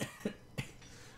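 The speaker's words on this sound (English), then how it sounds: "It's just like a tickle in the back of my throat, and it just makes me have to cough" A person coughs from a tickle in the throat, three short, dry, faint coughs in quick succession spread across about a second, with nothing else heard.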